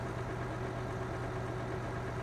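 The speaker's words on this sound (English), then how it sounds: "Start the engine." A tractor engine idles steadily in the video game Farming Simulator 19, an even low drone with a constant hum, close and uninterrupted.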